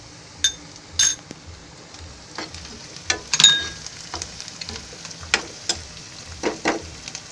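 Mustard seeds and spices roast in hot oil in a pan, giving a soft continuous sizzle broken by sharp crackling pops and a few light clinks of a utensil against the pan.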